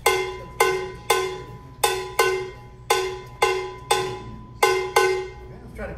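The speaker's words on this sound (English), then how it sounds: "first we'll do easy clave. 4/4 clave. So just listen to this." A cowbell struck in a steady 4/4 clave rhythm, bright metallic clanks in repeating groups of hits with ringing decay, played close and clear with no one speaking over it.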